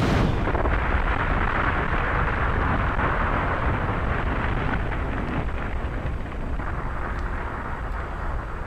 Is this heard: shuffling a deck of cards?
no